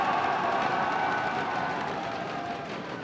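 Steady roar of a live esports crowd at IPL4 in Las Vegas, cheering and applauding continuously for about three seconds, loud and diffuse with no break.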